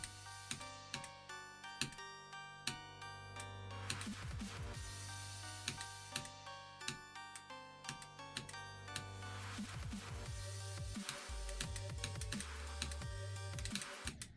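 SayoDevice keypad keys tapped rapidly during a rhythm game, a dense run of sharp clicks in steady bursts over loud backing music, with no voices.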